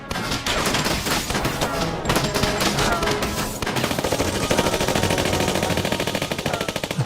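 Battle gunfire from a Chinese war drama about the Long March: loud, continuous rapid machine-gun bursts and overlapping rifle shots, dense and close throughout, with no talking.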